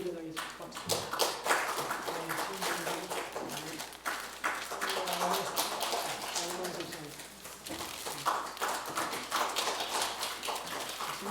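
A church congregation claps during an early-morning prayer gathering, dense scattered hand claps running the whole stretch with speech mixed in over it.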